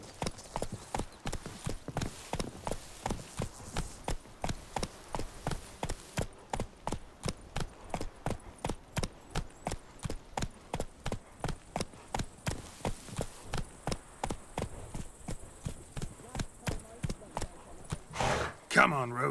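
Roach, a horse in The Witcher 3, gallops in a steady, loud clip-clop of hooves that runs throughout, with a brief whinny near the end.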